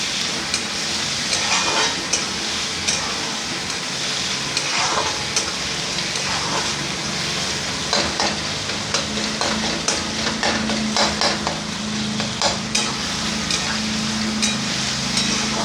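Food with a little coriander stir-fried in a pan over a high flame: a steady, close sizzle runs throughout, broken by frequent clicking spatula strokes against the pan, with no talking.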